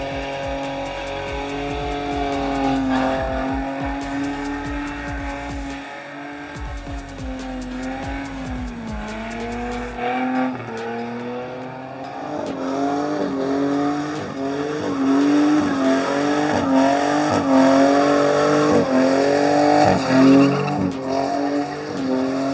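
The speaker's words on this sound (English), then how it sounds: "And now she's ready to shed some tyres." A burnout car at a real burnout competition revs hard and its tyres squeal and skid in long rising and falling howls that build in loudness toward the end, with no talking.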